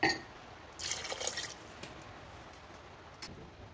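Water poured into a simmering beef and vegetable stew with coriander, a short liquid splash and trickle lasting about a second, then faint drips fading into a quiet kitchen background.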